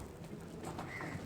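A male pigeon gives a soft, low cooing close by, a brief muffled burble over faint background hiss.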